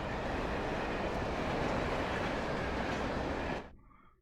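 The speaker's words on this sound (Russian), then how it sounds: "О, поезд." A train in the video game Alan Wake rumbles past in a loud, steady roar of wheels and rail noise, then cuts off abruptly, leaving near silence.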